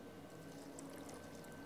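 Water poured into an alchemy mixture of burnt lime in The Witcher 2, a faint, steady liquid trickle running continuously and alone.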